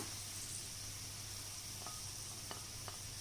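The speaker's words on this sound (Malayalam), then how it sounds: "എന്നിട്ട് വീണ്ടും ഒരു 2 മിനിറ്റ് വഴറ്റുക." Steady soft sizzling of carrots sautéing in a pan for non-veg kanji soup, with a continuous frying hiss and a few faint scrape clicks of stirring, no voices.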